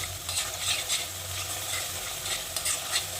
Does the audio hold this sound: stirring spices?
yes